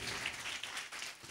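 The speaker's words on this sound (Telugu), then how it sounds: "చప్పట్లు కొట్టండి ఒక్కసారి" A church congregation claps together during a Sunday service, a dense, brief patter of many hands heard at moderate distance with no voices over it.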